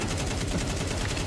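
A sustained spray of automatic gunfire in Counter-Strike during a professional esports match, a dense continuous rattle of rapid shots that fills the whole moment, loud and steady.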